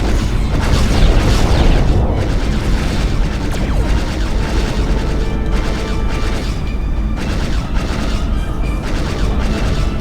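Starship weapons in Star Trek Klingon Academy fire in a dense, continuous barrage of booming blasts and rumbling explosions, loud and sustained with overlapping sci-fi weapon bursts throughout.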